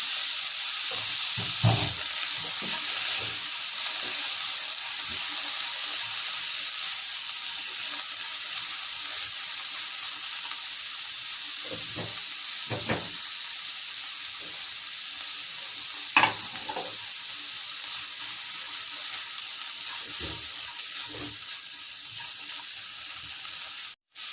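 Chopped onion and green chili frying in a pan for fried rice alongside boiled carrot and broccoli, a steady bright hiss of sizzling oil with scattered stirring knocks, close and fairly loud.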